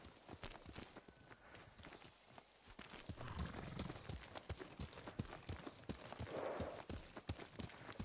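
Horses clip-clopping along a trail in the video game Ghost of Tsushima, with repeated hoof strikes in an uneven walking rhythm, moderately close, a soft whinny-like tone mid-clip over a quiet background.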